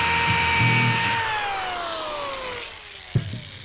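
A power drill boring pilot holes into a wooden end table piece, a high, steady whine that slowly winds down in pitch before stopping, followed by a brief clunk.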